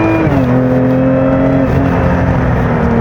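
A 2025 Lotus Emira V6 with automatic transmission revs loudly and close on a winding road, a smooth high supercharger whine rising and holding, with a steady mechanical roar underneath.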